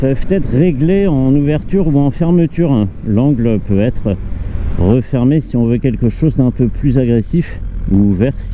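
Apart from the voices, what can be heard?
No everyday noises stand out.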